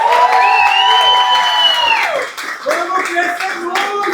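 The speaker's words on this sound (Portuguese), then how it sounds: "Uma salva de palmas, pessoal." Audience clapping and cheering at a corporate storytelling event, with a lively crowd, whoops and sustained vocal cheering over hand claps, fairly loud and continuous.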